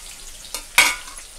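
Colocasia leaf rolls (alu vadi) hit hot oil on a full flame, giving two short, sharp sizzling bursts a moment apart over a faint background hiss.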